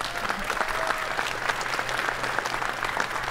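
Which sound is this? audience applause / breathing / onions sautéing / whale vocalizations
audience applause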